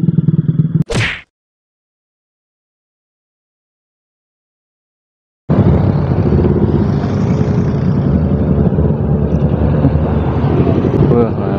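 ZX motorcycle on a road during a Sunday group ride, heard from another bike: a short clatter, a stretch of silence, then a loud continuous rumble of engine and wind noise.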